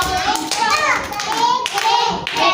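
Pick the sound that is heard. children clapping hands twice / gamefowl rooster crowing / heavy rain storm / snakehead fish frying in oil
children clapping hands twice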